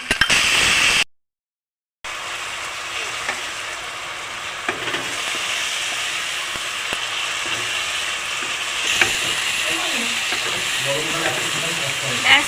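A paste of tomato and green chilli fries in a pan with ginger-garlic paste, making a steady sizzle and hiss. It stops for a moment near the start, then picks up again, with a few brief stirring scrapes toward the end.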